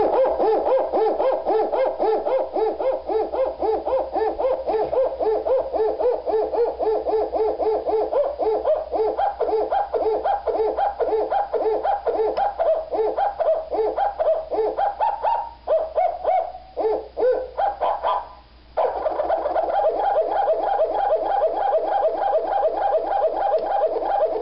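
Bird calls from a circuit-bent bird song calendar are sequenced into music, looping hooting, coo-like tones that are pitch-shifted and sped up in a loud, steady rhythm, with a few brief dropouts.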